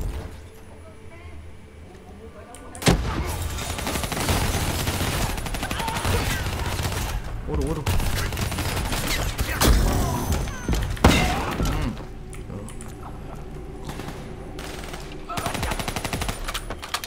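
Gunfire in Call of Duty: Black Ops 3 erupts after a quiet opening: sustained automatic bursts and loud shots with sharp impacts run almost continuously, thinning toward the end, with voices mixed in.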